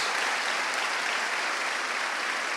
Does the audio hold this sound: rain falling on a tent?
no